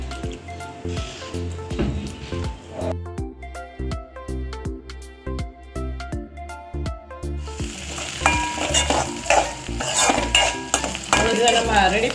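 Onions sauté in a pan with sizzling, scraping stirs and clinks from a metal spoon. A tonal, music-like passage plays in the middle, and the frying grows louder and busier toward the end.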